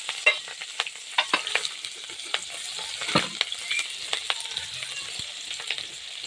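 Chili and onion hit hot oil for an egg chow mein, crackling in a continuous close sizzle broken by sharp scraping stirs of the spatula against the pan, with no voices.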